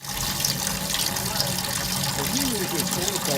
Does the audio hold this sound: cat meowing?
no